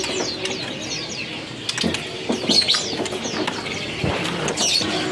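Murai batu birds in a bird shop in Medan: a dense mix of whistling chirps and fluttering wings, with mechanical rattles, steady and fairly close.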